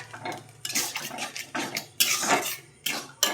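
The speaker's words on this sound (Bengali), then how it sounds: "ডালটাকে দিয়ে একটু কষাবো" A spatula stirs and scrapes mashed lentils with spices in a pan for dal tadka. Close, bright scraping strokes come in uneven bursts, with no one talking.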